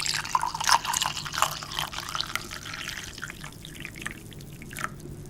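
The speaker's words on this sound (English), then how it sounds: "I pour some coffee here." Liquid pours in a thin, trickling stream for a few seconds, with small drips and splashes against a quiet outdoor hum.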